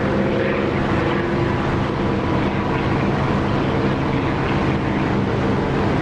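A continuous, broad roar from a jet aircraft in the DCS flight simulator, steady and loud throughout with no voices.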